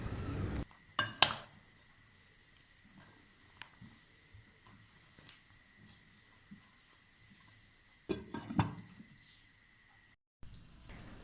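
Pots and cups clink and knock against each other while a pot of tea cups holding cupcake batter is covered, with two clattering bursts near the start and end and quiet stretches between.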